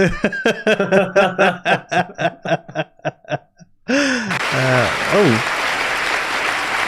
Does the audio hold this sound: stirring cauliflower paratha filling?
no